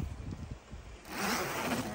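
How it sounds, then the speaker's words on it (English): A zipper on a Bintelli golf cart rain cover is pulled down in a quick scraping run, close and fairly loud, following a few soft handling rustles. "pull the rubber band up and pull the zipper down"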